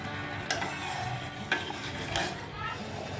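Sugar syrup for jalebi flavoured with cardamom, boiling in a pan, gives a soft steady bubbling sizzle close by, broken by a few light clinks of a spoon against the pan.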